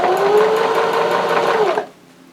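A sewing machine back stitches a fabric scrunchie, a loud, close, steady mechanical whir with fast needle chatter that runs for under two seconds and then stops abruptly.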